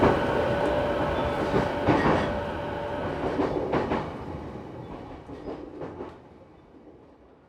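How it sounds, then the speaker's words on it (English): A train rumbles past in rugged, hilly Okutama, Tokyo, its wheels clacking over rail joints at a steady rhythm, loud at first and fading gradually as it moves away. "there's a train that goes through here"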